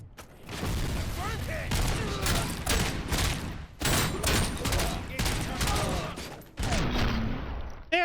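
Sustained gunfire in the video game Robocop: Rogue City, with a shotgun used like another type of gun, rattles in loud, dense bursts with a few brief gaps, close and continuous, with game effects layered over.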